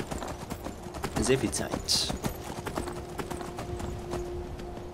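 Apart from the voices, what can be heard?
horse hooves clip-clopping in video game Skyrim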